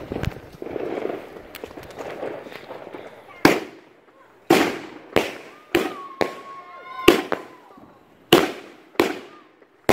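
A grand finale of consumer fireworks at a May long-weekend gathering: after a stretch of murmuring voices, about nine sharp, loud bangs go off one after another at irregular intervals, with a whistling shell rising between them.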